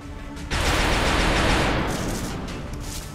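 A sustained burst of automatic gunfire from the XCOM video game, a dense crackling roar that starts abruptly and rolls on loud and unbroken for a few seconds, with no talking over it.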